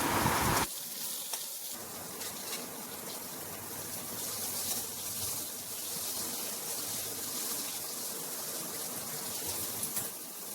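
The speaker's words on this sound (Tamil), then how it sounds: "நம்ம எடுத்து வச்சுருந்த காலிஃப்ளவர் எல்லாத்தையும் இந்த மாதிரி எண்ணெயில் போட்டு பொறிச்சு எடுத்துடணும்" Cauliflower pieces dropped into hot oil set off a steady, dense deep-frying sizzle that starts with a brief splash and then holds evenly close by, with no voices.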